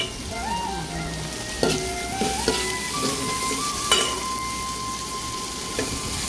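Onions and curry leaves fry in a pan for a home-style Kerala onion fry, giving a steady close sizzle with occasional sharp clinks and scrapes of stirring.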